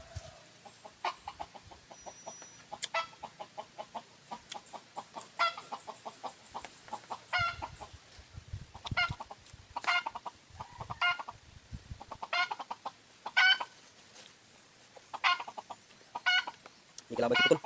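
A chicken clucks repeatedly outdoors at a rural camp, giving short bursts of clucks with pauses between them. The birds sound near and moderately loud, and faint rustling and a voice can be heard in the background.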